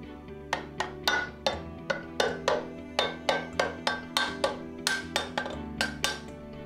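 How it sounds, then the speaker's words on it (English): A rubber mallet taps an end plate into place on a Brodie BiRotor Plus measuring unit, about fifteen crisp, evenly spaced knocks with a bright ringing edge, close and alone. "Tap it into place with the rubber mallet."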